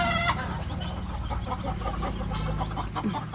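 Chickens clucking steadily nearby, a busy overlapping chorus of fowl with no talking.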